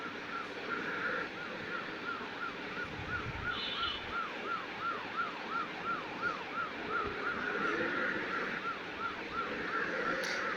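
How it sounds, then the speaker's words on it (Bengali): A wailing ambulance siren in the Truck Simulator Indonesia driving game rises and falls in a fast, steady cycle throughout, loud and continuous over a low engine rumble. "O my god, ambulance."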